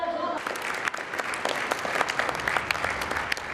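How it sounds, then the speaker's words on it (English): An audience applauds dagger-throwing knights at a lakeside event in Hungary, a steady, dense patter of clapping hands that continues throughout at moderate distance. "The audience applauds"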